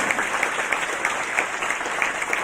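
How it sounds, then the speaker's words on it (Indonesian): Church congregation at an evangelistic revival service in Ambon applauding, a steady dense clapping that fills the whole stretch with even rhythm and no pauses. "Yang setuju beri tepuk tangan. Yang meriah begitu."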